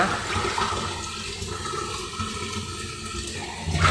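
Water runs and splashes steadily as cassava is washed, a close, continuous rushing sound that swells slightly near the end, with no voices over it.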